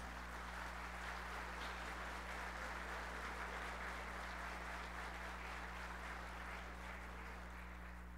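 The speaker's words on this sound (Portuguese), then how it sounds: "que eu peço uma salva de palmas" Sustained applause from an audience greeting federal deputy Fátima Bezerra, a continuous even roar of many hands clapping at a distance, over a steady low electrical hum.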